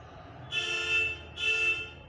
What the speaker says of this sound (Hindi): गाड़ी को चले जाने दो थोड़ा नहीं तो हॉर्न बजाती रहेगी